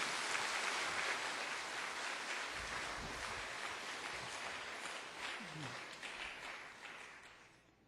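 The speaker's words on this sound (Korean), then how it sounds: "우리 한번 박수 한번 칠게요." Applause from a seated audience at a talk, a moderately dense clapping that slowly thins and fades away toward the end, with faint murmuring underneath.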